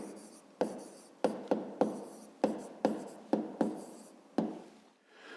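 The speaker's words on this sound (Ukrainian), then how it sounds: "Пишемо відповідь." Pen or pencil writing on paper in a quiet room, about ten short scratchy strokes in an irregular rhythm, close and soft.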